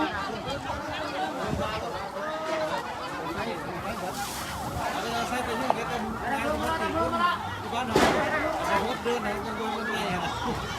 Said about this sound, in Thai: ดับเพลิงมาละดับเพลิงมาละ